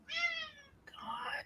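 A pet cat yowls loudly up close, two strained, drawn-out meows back to back with the second rougher and more nasal, filling the short moment on their own.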